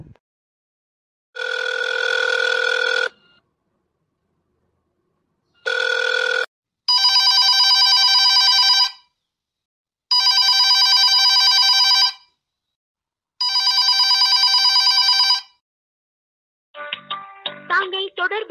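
Phone ringing unanswered: a ring tone sounds in separate bursts, followed by repeated electronic ringback tones with pauses between them, and then a short automated voice message starts at the end.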